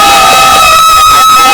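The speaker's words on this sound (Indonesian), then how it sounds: "Kayaknya perlu tepuk sekali lagi biar kita agak excited." A live podcast audience cheers and shouts loudly in a short, saturated burst of crowd noise, with voices rising together as a host is welcomed.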